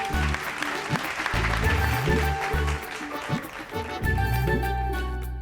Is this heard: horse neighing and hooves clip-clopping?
no